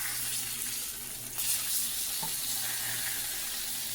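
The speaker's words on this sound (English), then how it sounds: "I like to quick fry my burgers" Burgers topped with pepper, with bacon and cheese, quick-frying in a pan: a steady bright sizzle holds throughout, with a brief faint knock near the middle.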